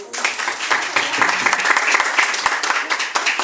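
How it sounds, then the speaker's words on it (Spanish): An audience at an ethnographic talk about territorial conflicts in northern Cauca breaks into loud, close applause, sharp individual claps standing out from a thick, sustained wave that holds throughout. "Yo creo que un aplauso para este espacio."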